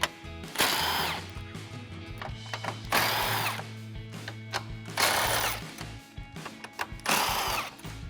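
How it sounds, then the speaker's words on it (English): An impact gun with a deep socket removes 10mm bolts at the top of a 2014-2015 Silverado 1500 front end, its loud whirring bursts repeating four times with short pauses between them. "I'm switching over to an impact gun and a deep socket"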